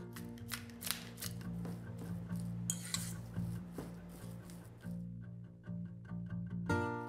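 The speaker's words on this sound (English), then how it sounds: "2 tablespoon mayonnaise, then mix well" Mashed potato salad being mixed with mayonnaise, producing soft, irregular scraping and clinking of a utensil against a bowl, faint and close, with no voices.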